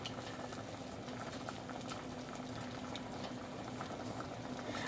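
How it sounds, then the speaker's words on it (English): Black beans boil in a pot of water on the stove, a steady, quiet bubbling and fizzing simmer that continues evenly throughout with no voices. "meanwhile, the black beans are cooking"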